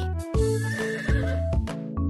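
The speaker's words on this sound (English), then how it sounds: "The horse near the cow lets me ride her and likes to neigh when she wants hay." A horse neighs loudly and close in a repeated series of whinnies over about two seconds, with no talking.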